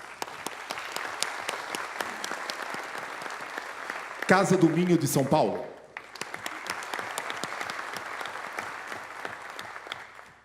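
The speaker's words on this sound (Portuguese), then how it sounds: "a qual eu gostaria que todos, a cada nome citado, dessem uma grande salva de palmas" Steady crowd applause at a ceremony honoring the Portuguese community in São Paulo, continuous clapping that briefly gives way to a man announcing a name over a microphone before the clapping resumes.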